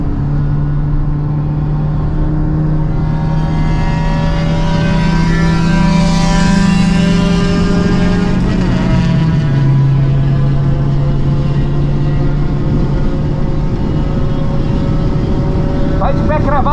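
A race car engine held at full throttle in fourth gear on a circuit drones loud and steady, its pitch climbing slowly and then dropping slightly, with a voice speaking over it.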